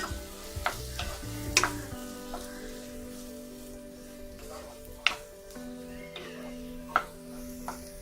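Bread chunks frying in half a spoon of hot oil in a pan, with a soft sizzle under sharp scraping and clinking stirring strokes that come at irregular moments.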